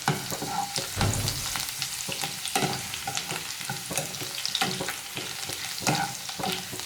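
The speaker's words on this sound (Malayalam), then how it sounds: "ഇനി നമുക്കിതിലേക്ക് ചതച്ച് വെച്ച വെളുത്തുള്ളി ഇട്ടിട്ട് ഫ്രൈ ചെയ്തെടുക്കാം" Crushed garlic fries in hot oil, a loud, dense, continuous sizzle and crackle close up, with stirring bursts throughout.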